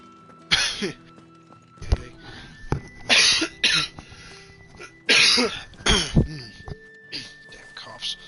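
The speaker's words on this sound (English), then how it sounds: "Damn coughs." A character in the Final Fantasy XVI video game coughing in a series of rough, wet bursts, several close fits spaced irregularly over a few seconds amid quiet background ambience.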